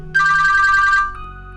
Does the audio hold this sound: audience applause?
no